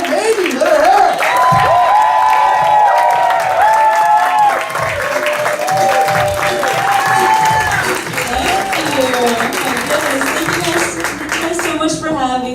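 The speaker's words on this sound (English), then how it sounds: "Please, a round of applause for our next comic, Mamey." A comedy club audience at the Hollywood Improv claps and cheers for a stand-up comic taking the stage, with loud, sustained applause, whoops and a voice speaking over the crowd.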